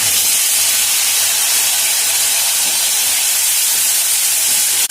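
A soaked spice paste hits hot oil in a pan already tempered with whole cumin, giving a loud, steady, broadband sizzle that holds unbroken throughout.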